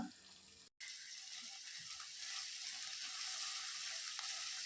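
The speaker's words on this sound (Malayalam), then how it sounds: "ഇനി ഈ എണ്ണയിലേക്ക് നമുക്ക് നാല് മീഡിയം സൈസ് സവാള സ്ലൈസ് ചെയ്തത് ഇട്ട് കൊടുക്കാം" Sliced onions frying in oil for a Kerala-style egg biryani, a steady soft hiss and sizzle that begins after a brief silence and continues evenly, faint and close, with no voices.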